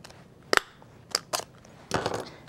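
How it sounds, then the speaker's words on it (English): A hole punch clicks through a folded paper seed packet in a kids' craft, giving a few sharp, close crunching snaps spread over a couple of seconds, with no voices. "I'm ready for my hole punch. And you'll punch two sides"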